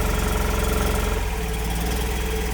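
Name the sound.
Mazda Miata NB2 engine idling cold after first startup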